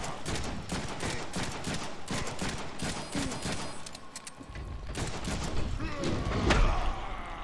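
Dense, rapid bursts of gunfire and heavy impacts from the Deadpool video game fill the whole stretch, loud and close, with a brief lull midway before the shooting picks up again.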